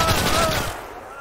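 Dense, loud burst of gunfire from the Call to Arms: Gates of Hell video game, aimed at the player amid sniper fire, crackling steadily for under a second before dropping to a quieter tail.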